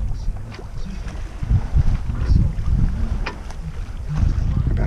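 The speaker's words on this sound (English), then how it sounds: "Oh, the wind's coming back." Wind gusting over a Twister sailing yacht out at sea, a steady broadband rush with low buffeting and water noise around the hull, swelling slightly toward the end.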